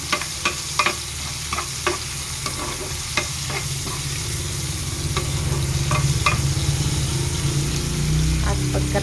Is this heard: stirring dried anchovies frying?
yes